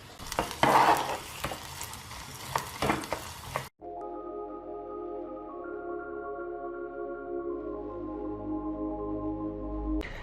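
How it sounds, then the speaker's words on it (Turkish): Stirring a filling mixture in a bowl, with broadband scraping and clinking strokes for the first few seconds, then the sound cuts off to steady tonal background music. "Güzelce karıştırdım."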